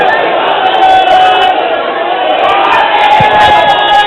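A large crowd at a religious gathering chants slogans in unison. The loud massed voices carry over a reverberant background, with rising shouts and whoops from the crowd.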